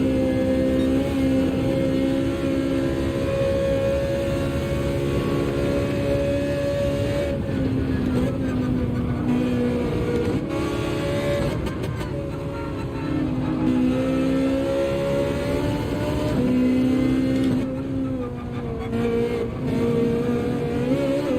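A race car in Gran Turismo 7 holds a loud, steady engine drone at full throttle, its pitch shifting slightly with gear changes, throughout the clip.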